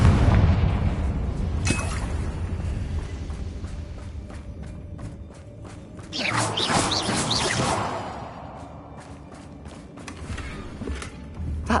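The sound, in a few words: Confringo spell explosion in a Hogwarts video game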